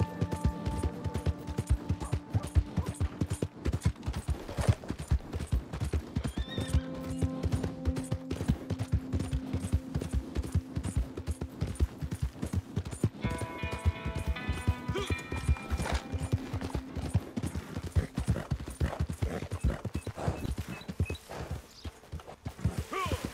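Quiet horse hooves in Red Dead Online clip-clop in a quick, steady rhythm over light background music, with occasional faint whinnies.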